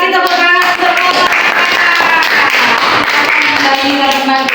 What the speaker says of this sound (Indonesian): Kita kasih tepuk tangan semua.